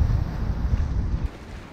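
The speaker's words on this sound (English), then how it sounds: "We're bashing our way completely straight into the wind." Strong wind roars across the microphone while a sailboat beats straight into the wind near Fair Isle, a dense low rumble with buffeting gusts and no voices.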